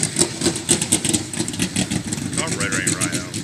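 An engine with aftermarket headers and a carburetor that runs poorly, revving on a test drive, loud and close, with a throaty, uneven, pulsing rumble that lugs at low RPM while people talk over it.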